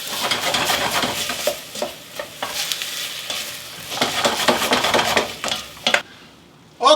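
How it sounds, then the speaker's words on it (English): Onions fry over medium heat in a pan, sizzling steadily while a utensil stirs and scrapes through them in repeated strokes, close and fairly quiet, fading to near silence at the end. "Cook these onions on medium heat until they are soft."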